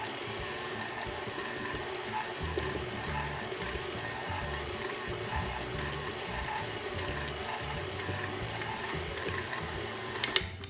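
Electric stand mixer kneading cinnamon roll dough in a mixing bowl, a steady low mechanical whir and rumble running unbroken throughout, close and moderately loud, with a couple of sharp knocks right at the end.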